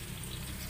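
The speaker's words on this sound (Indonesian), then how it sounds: "ni kita goreng sampai garing juga" Ingredients for Singapore-style sambal goreng frying in hot oil until crispy, a steady dense sizzle and crackle heard up close with no talking.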